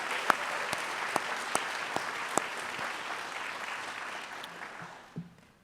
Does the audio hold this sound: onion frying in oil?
no